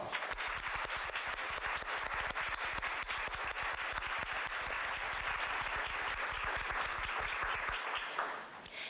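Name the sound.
audience applause at a youth leadership ceremony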